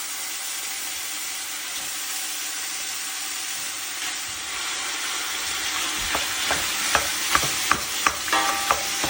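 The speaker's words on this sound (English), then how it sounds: "Get our ground beef going." Ground beef, a couple of pounds, browning in heated oil in a pot, giving a steady sizzle with faint stirring scrapes and several sharp clinks of a utensil near the end.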